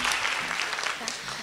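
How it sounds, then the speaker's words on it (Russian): A lecture audience applauds together, a thick wash of clapping that holds steady throughout, with voices faintly mixed in. "Аплодисменты от зала тому, кто"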